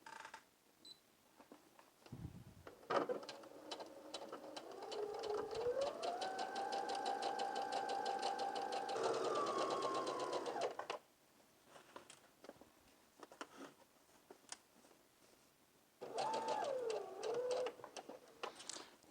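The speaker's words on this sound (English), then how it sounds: "starting at the bottom edge of the skirt, let's insert our fabric and begin sewing." A sewing machine stitches skirt fabric from the bottom edge, its motor whirring in long continuous runs that rise in pitch, with pauses and clicks between bursts and a final shorter run.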